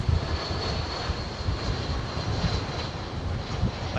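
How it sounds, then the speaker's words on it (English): A Singapore Airlines Boeing 747 freighter on approach to land at a busy London airport, a steady broad engine roar that stays loud and constant throughout, with no speech. "And the first one you want to track, Martin, is the Singapore Airlines 747 freighter, which I can tell you now."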